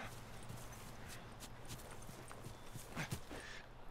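Quiet, irregular clip-clop of horse hooves walking in the video game The Last of Us, a few sharp knocks over a low ambient background.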